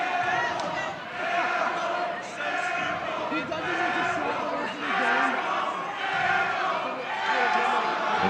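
Loud, dense crowd noise in a high school basketball gym fills the whole stretch, with shouting, cheering and jeering swelling and dipping in waves, and a few voices rising above the roar.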